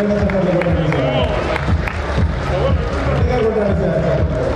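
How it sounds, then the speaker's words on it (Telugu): A crowd at a property project launch claps and cheers amid loud hubbub and overlapping voices, the clapping mixed under a dense, continuous wall of chatter. "చప్పట్లు కొట్టాలి సార్"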